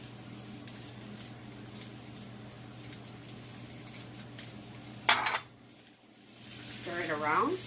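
Onions tossed into a pan of golden-fried pork: a sudden hissing clatter as they land, a brief lull, then a rising sizzle, all over a low steady hum.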